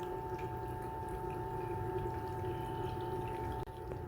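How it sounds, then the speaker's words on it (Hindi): A small water pump circulates water onto the cooling pad of an exhaust-fan room cooler, giving a steady tonal hum with a soft trickling wash, close and unbroken. "पानी आना शुरू हो गया हमारे पैड में"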